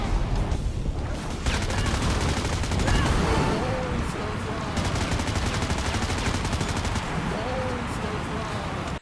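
Gunfire from the mobile third-person shooter game Frag Pro Shooter: continuous rapid automatic shots and bursts under steady game noise, loud and dense throughout, with a voice speaking over it.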